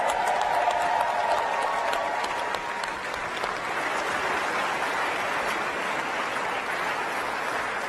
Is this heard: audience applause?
yes